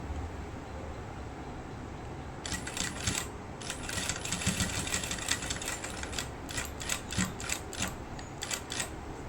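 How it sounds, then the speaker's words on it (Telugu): A sewing machine stitching a chudidhar dress, running in several bursts of rapid mechanical clatter separated by short pauses, close and fairly loud over a low background hum. "నీట్గా సేమ్ అదే దీంట్లో స్టిచ్ చేస్తాను."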